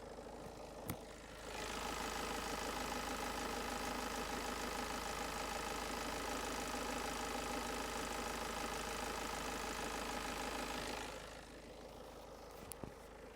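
A 2020 Peugeot Expert Extra Long van's diesel engine idles steadily with a low, rumbling knock for several seconds, close and constant, then cuts off into near quiet.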